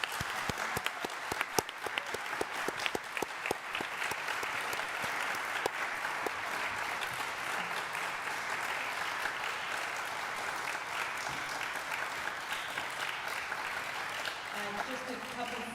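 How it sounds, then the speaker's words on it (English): Audience round of applause at a League of Women Voters candidates forum for the 14th Middlesex District, a steady, moderately quiet patter of many hands clapping that continues evenly for over fifteen seconds. "First, a round of applause."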